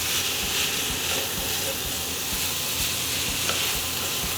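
Vegetables sizzle in sausage fat inside a Pit Boss smoker, a steady close hiss with faint scraping stirs, and no voice over it.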